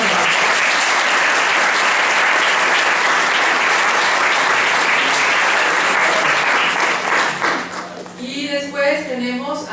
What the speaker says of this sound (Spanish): un aplauso para José Luis Caballero